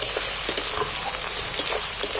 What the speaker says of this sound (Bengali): আদাটাকেও আমি ফের তেলের মধ্যে নেড়ে চেড়ে ভেজে নিচ্ছি।